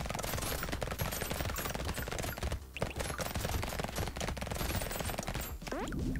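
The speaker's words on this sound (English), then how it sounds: "those SMGs firing so fast" Rapid SMG fire in the arena shooter Brotato, a dense nonstop rattle of quick shots layered with hit and pickup effects, steady and loud throughout with only a brief dip in the middle.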